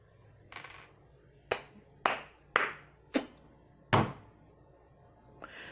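Sharp hand claps ring out one at a time in a quiet room, six distinct claps spaced roughly half a second to a second apart, each with a short decay.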